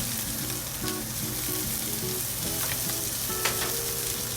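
Sweet potato and corn crisp up in a hot pan, a loud, steady sizzle close by with a low rumble beneath and a couple of sharp utensil clicks.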